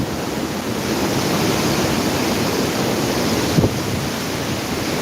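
Strong typhoon wind during a signal 5 storm in Camarines Sur, Bicol roars continuously and loudly, buffeting the microphone as broadband rushing noise with a brief gust near the end.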